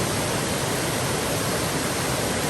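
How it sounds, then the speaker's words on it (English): A waterfall on a trail near Hanover pours steadily, a loud, close, unbroken rush of falling water with no voices. "Got a waterfall going into town."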